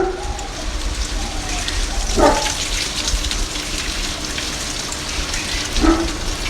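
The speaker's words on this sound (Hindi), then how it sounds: "जब भी आपके प्लांट्स के अंदर इस तरह से पानी खड़ा हो, तो उसको आप गिरा दीजिए" Standing water poured out of a large, heavy plant pot, a steady gushing splash throughout with a couple of louder sloshes.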